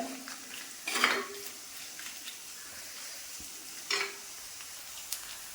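Shallots and green chillies fry in a pan with a low, steady sizzle, punctuated by two brief louder bursts of stirring and utensil clatter.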